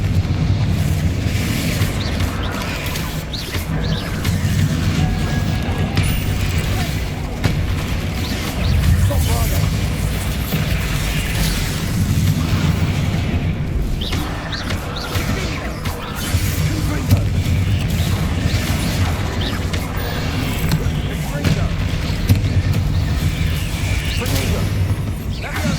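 Repeated Confringo blasting-spell explosions and booming impacts from the game Hogwarts Legacy, dense and continuous with crashes and mechanical clatter, voices talking over the battle throughout.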